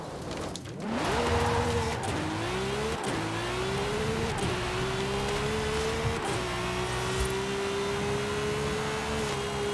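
A Volkswagen Golf R races in Forza Horizon 5, its engine loud and close, revving up and dropping back through several gear changes over a steady rain-like hiss.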